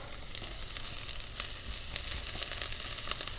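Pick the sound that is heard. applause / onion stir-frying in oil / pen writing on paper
onion stir-frying in oil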